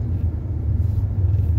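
Car engine and tyres rumbling as the vehicle reverses and pulls slowly out of a parking lot in winter snow and ice, a steady low drone heard from inside the car.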